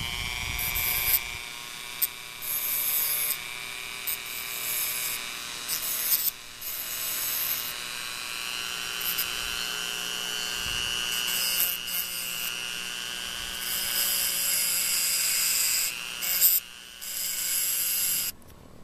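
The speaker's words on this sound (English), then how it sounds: "I'm using this grinding disc to clean up the very sharp edge from where the large grinding disc cut this spring in half" A grinding disc smooths the sharp cut edge of a steel spring, giving a loud, steady high-pitched whine with harmonic overtones that runs almost without a break, dipping briefly a few times as the disc meets and leaves the metal.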